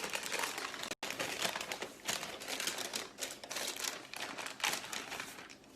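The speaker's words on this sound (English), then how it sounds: "Pull the block out of the parchment paper." Parchment paper crinkles loudly and steadily as it is peeled away from a block of butter for kouign amann pastry, a dense close rustle with a brief gap near the start.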